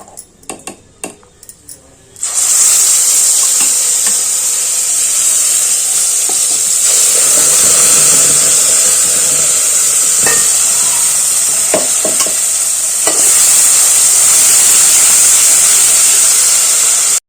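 Hot oil sizzles loudly and steadily after a brief quiet start, with small spatters and a few clinks of a utensil against the pan, as tempering is added for tomato chutney.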